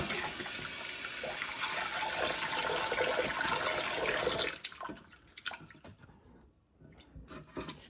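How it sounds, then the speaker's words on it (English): Cold water running from a tap into a sink, a steady close gush that stops partway through, leaving scattered drips and splashes. "Run some cold water."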